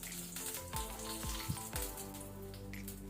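Bay leaf, cinnamon stick and cloves fry gently in hot cooking oil over a low flame, giving a steady soft sizzle with a few light stirring knocks.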